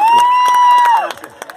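A crowd cheers and applauds a singer at a live music night at Expo Zulia, with whoops over a sustained musical tone before the clapping thins into scattered claps.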